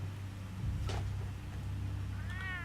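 A house cat meows in the Batman Telltale video game, a single short mew over a steady low background hum, fairly close and clear.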